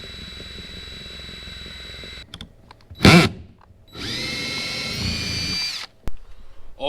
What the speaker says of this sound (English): I'm gonna make sure I drill holes that clear my battery